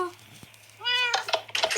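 A cat meowing in Minecraft, two or three short clear meows close by, with a voice speaking in between.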